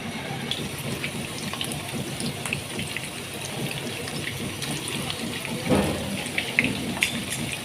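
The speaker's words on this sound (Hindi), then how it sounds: "ऑयल गर्म हो गया तो अब हम इसमें जो से है ना ये रखते जाएंगे कबाब।" Mutton malai seekh kebabs frying in hot oil, a continuous rain-like crackle and sizzle, with a thump and a brief surge in the spitting as pieces are laid in.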